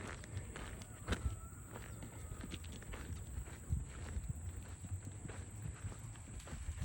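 An 11-year-old Missouri Fox Trotter saddle gelding, 15-2 hands, walks outside, its hooves clopping in a steady, uneven rhythm at close range. The muffled hoof falls sit over a low rumbling background, and no one speaks.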